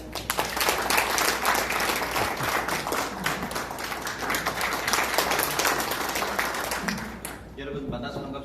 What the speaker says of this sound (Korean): 큰 박수 모시겠습니다.